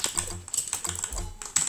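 Fast, close computer keyboard typing rattles in uneven bursts of clicks during a Roblox Rivals match, with no voices over it.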